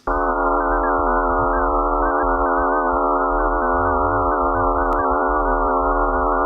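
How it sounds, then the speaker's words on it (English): A steady electronic drone of stacked, wavering tones, a sonification of the Martian moon Phobos, holds at one level, buzzy and unbroken, like a synthetic hum with a brief click near the end. "This is the sound of Phobos."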